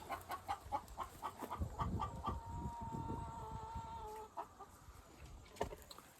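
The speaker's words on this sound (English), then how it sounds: "There's one of my roosters." Rooster on a farm with pigs, clucking and calling in short bursts over a low background of other fowl, moderately close but fairly quiet.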